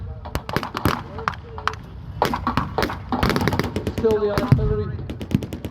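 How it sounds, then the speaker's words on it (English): Artillery fire at a Yorkshire war reenactment weekend comes as a rapid series of sharp booms and bangs, some in quick bursts, close and loud, while a voice briefly talks over it. "the artillery fire is coming down."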